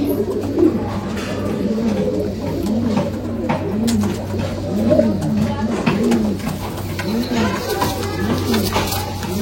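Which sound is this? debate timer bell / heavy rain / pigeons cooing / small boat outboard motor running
pigeons cooing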